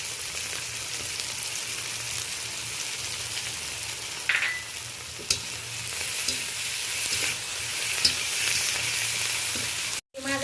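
Onion, tomato and green chili frying with ginger-garlic paste in a pan, a steady close sizzle running throughout, broken by occasional scraping stirs of a spatula and a brief dropout near the end.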